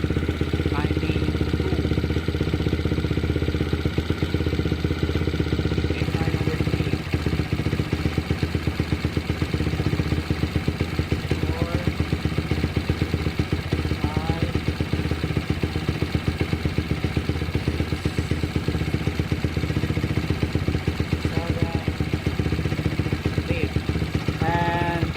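A Yamaha Jupiter MX 135LC motorcycle fitted with a racing CDI runs steadily near the microphone with a rattling idle that shifts slightly in pitch, while someone talks over it at times.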